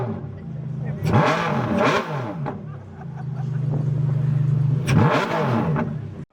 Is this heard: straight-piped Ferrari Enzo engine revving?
yes